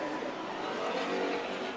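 Race cars roaring through a corner at Stockton 99 Speedway, a steady, loud blend of engine noise with a hint of tire scrub, continuous and close for a short burst.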